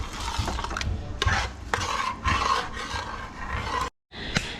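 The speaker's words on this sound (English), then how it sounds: "Stir that around." Food stirred in a pot, scraping and rasping bursts of a spoon against the pot close by in an uneven rhythm, ending with a brief silence and one last knock.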